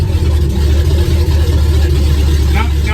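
A car engine cranking over and catching on a cold start, loud and close, with a steady low rumble running throughout.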